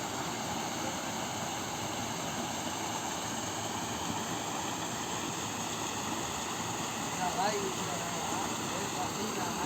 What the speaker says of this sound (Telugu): చూడండి నీళ్ళు పడతా ఉన్నాయి చూడండి మనకు ఇదే వాటర్ ఫాల్ ఇదొక చిన్న మినీ వాటర్ ఫాల్ అనమాట